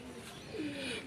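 A pair of blue Lahori pigeons coo softly and low, with a brief rolling call against a faint, steady background.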